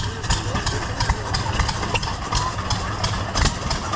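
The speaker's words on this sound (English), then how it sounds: "Gas engine" An antique gas engine runs at a county fair engine display, a steady mid-to-low engine chug with a regular pulsing beat, close by amid outdoor crowd noise.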